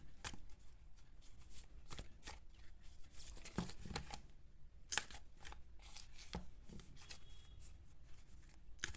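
Tarot cards being shuffled by hand for a reading, a run of crisp riffling and slapping bursts repeating steadily and close up, with no talking.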